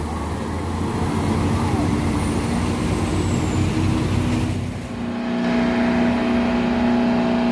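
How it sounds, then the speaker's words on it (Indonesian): A Nissan tanker truck's diesel engine rumbles steadily nearby, with a brief dip in the middle before the heavy drone resumes. "di sana ada truk tangki CPO Midukarta Nissan Euro"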